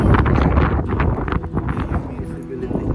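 Strong blizzard wind in Winnipeg roars steadily and buffets the microphone up close, a loud, continuous rumble with no break.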